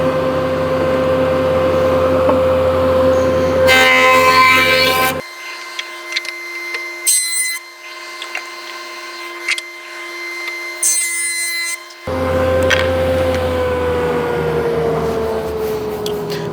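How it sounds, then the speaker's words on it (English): A wooden kitchen board is fed through a jointer in several passes, the loud steady whine and cutting rasp of the spinning cutterhead broken by a quieter stretch between passes. "So I'm going to start here on the joiner and get this a little bit flatter"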